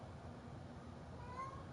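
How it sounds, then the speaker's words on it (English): A cat wanting to go outside gives a faint meow indoors, heard softly over a quiet background hum. "that's the cat."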